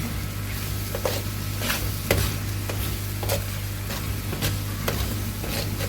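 Mutton karahi with plums, green chilies and ginger stirred in a pan, a spoon scraping in a steady, repeated rhythm over a low constant hum, close and moderately loud.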